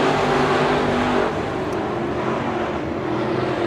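Race cars roar around the Bakersfield Speedway oval during a heat race at the Mike Moshier Classic, a dense, loud, sustained engine drone with slight swells as cars pass.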